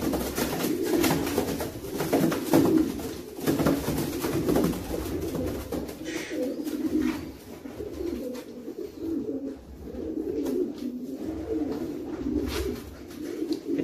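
A blue bar racing pigeon hen, a long-distance breeder, coos repeatedly in low, throaty rolling calls close by, with steady soft cooing running throughout and no talking.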